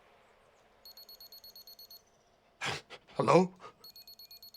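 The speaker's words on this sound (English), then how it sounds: "What's that beeping sound?" Rapid electronic beeping pulses in short even runs from a signal simulator game, stopping while someone speaks, then starting again.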